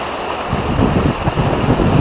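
Strong wind blowing at a river resort near a long bridge, a steady loud rush with gusty surges buffeting the microphone throughout, no voices.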